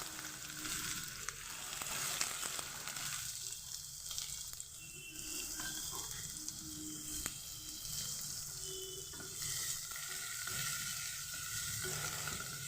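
Chopped onions fry in about three tablespoons of oil in a pan, a continuous soft hiss and crackle that stays steady for several seconds, with occasional light stirring clinks and no voices.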